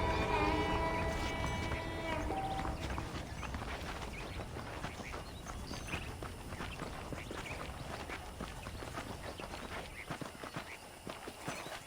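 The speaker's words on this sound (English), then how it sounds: "The horses are saddled up over here." Saddled horses in the Red Dead Redemption video game clop along at a walking pace, a steady run of hoof clip-clops in the foreground after brief music fades out at the start.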